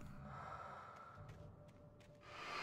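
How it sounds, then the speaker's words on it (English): Heavy, breathy gasps and sighs in the video game Alan Wake, sustained and close, with a rising exhale near the end. "Hearing something breathing like"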